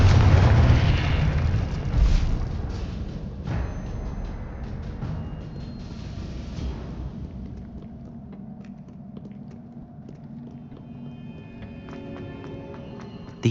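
A Confringo spell blast in Hogwarts Legacy bursts as a loud, deep boom at the start, then rumbles and crackles away into quieter in-game ambience with scattered small impacts.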